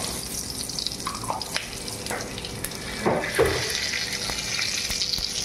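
Dried red chilies, bay leaf and cumin fry in oil in a pan, a continuous crackling sizzle with a few sharper pops and spoon scrapes partway through, and no voices.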